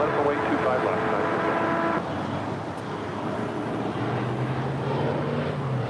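ABX Air Boeing 767-200 taxiing at LAX, a steady broad engine rumble and whine at moderate distance under airport background noise, with a low tonal hum rising near the end; no one talks over it.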